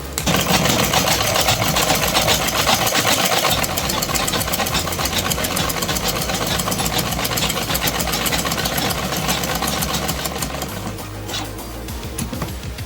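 A sewing machine runs a straight seam on a kurta, a fast continuous mechanical clatter held close and loud for most of the stretch before easing slightly near the end.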